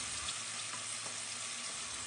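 A constant soft bubbling sizzle of skinless chicken longganisa sausages simmering in water in a covered pan, steady and unbroken for a couple of seconds.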